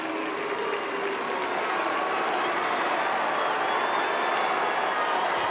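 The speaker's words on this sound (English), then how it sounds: "Saints fans cheer, Blues boo." A large Australian football stadium crowd roars continuously during a Carlton versus St Kilda match, Saints supporters cheering and Blues supporters booing, a broad steady wash of noise at a distance with no clear speech.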